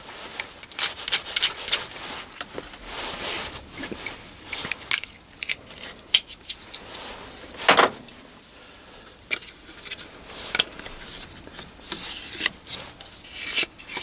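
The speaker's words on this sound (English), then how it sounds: "Just deburr that, take those edges off." A hand file deburrs the edges of small machined metal parts for an electronic igniter, giving repeated rasping strokes in an uneven rhythm, loud and close, with no talk.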